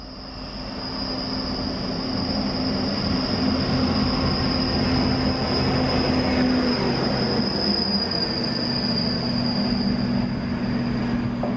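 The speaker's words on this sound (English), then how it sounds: "Oh, a track machine." A railway track maintenance machine rolls past on the line at Derby, giving a steady loud rumble with a sustained high wheel squeal and a low droning tone that holds throughout.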